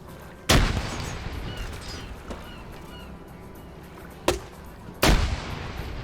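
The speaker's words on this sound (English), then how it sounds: "Grenades being thrown in now." Grenades explode in an online multiplayer video game match, sounding as three sharp, loud blasts spaced a few seconds apart, each with a short rumbling tail over a background of distant game noise.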